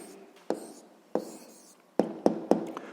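A pen or pencil writing an answer by hand during a sixth-grade maths exercise, with soft continuous scratching broken by five sharp taps or strokes on the page, close and quiet with no talk.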